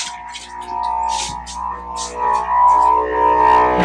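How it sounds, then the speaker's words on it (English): A caravan's pressurised water pump cuts back in with a steady electric whine and humming tone, rising and wavering slightly, close by and fairly loud. "There you go, the flow system's cut back in."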